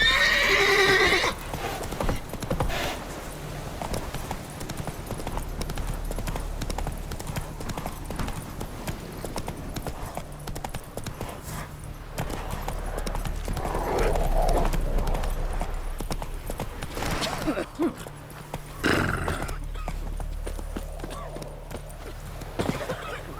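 Roach the horse gallops in The Witcher 3, with steady clip-clop hoofbeats carrying throughout, a whinny near the start and game voices and ambience mixed underneath.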